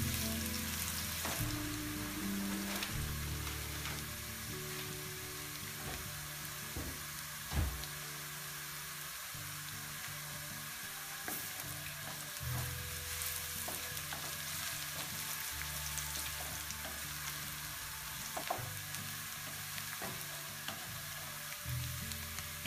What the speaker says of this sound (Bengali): এখন পেঁয়াজ কুচি দিয়ে দিব। পেঁয়াজটা আমি অল্প ভাজব।